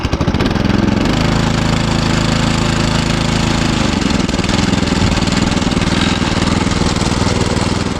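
A FORTE MKB-70 200 cc motor cultivator engine with a clogged carburettor runs loud and close, its pitch rising and falling as it surges unevenly for several seconds.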